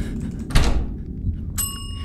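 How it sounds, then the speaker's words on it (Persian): A bell rings in the horror video game Suite 776. A muffled thud comes first, then a bright, sustained ring hangs over a constant low rumble. "یکی زنگوله رو زد اگه اشتباه نکنم."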